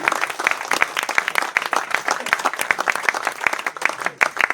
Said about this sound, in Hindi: सभी गौ सेवकों का ताली जोर से बजाओ भाई जरा